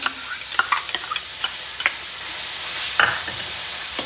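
Garlic-ginger paste drops into hot oil for a carrot and red chili pickle, with a spoon clinking and scraping in quick bursts early on, then a steady sizzle, close with no talking.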